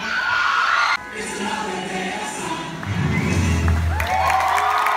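A crowd at a synchronized skating show cheers and applauds loudly, with whoops and shouts rising over steady clapping; the noise dips briefly, then swells again.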